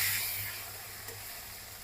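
Asafoetida being stirred into hot oil in a pan with chopped tomato and green chilli, giving a steady close hiss of sizzling that fades gently, with one soft stir scrape midway.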